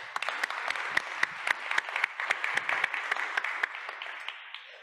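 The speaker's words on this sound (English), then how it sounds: "Round of applause for Marc" A conference audience applauds the speaker Marc at a digital health summit, with sharp individual claps rising into a moderate, uneven patter that thins and fades toward the end.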